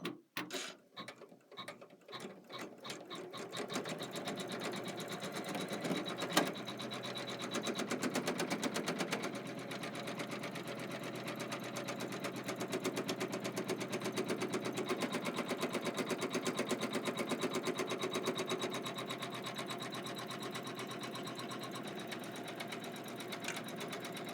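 A computerized embroidery machine stitches a placement line for batting, starting with a few separate needle strokes, then settling into a steady, fast, close mechanical chatter that runs on without a break, with no voices over it.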